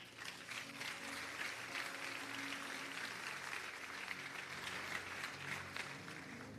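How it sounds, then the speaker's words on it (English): A church congregation applauding at a large religious gathering in Lagos, a dense, steady wash of many hands clapping at a distance, quiet and continuous, with faint background hum and no speech over it. "Clap well."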